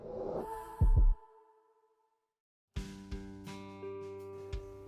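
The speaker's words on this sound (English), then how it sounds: "the loudest sound is the beat of your electric heart" A deep heartbeat thump, a close double beat in an electric car advert for the new Nissan, stands out loud and alone before silence. Soft synth music comes in afterwards.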